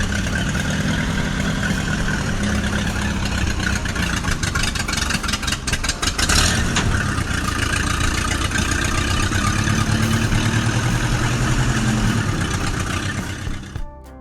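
Kubota 701 tractor engine working on ice, a loud, steady mid-pitched drone with throttle surges and a brief rev in the middle before easing off at the end.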